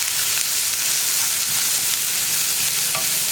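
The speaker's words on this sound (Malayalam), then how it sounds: "നമുക്ക് ആ സവോളയൊക്കെ ഒന്ന് കടിക്കാൻ കിട്ടുന്ന പാകത്തിൽ കുക്ക് ചെയ്തെടുക്കാം." Sliced onions for masala dosa sizzle loudly and continuously in a hot pan, a dense, even hiss close up with faint stirring scrapes underneath.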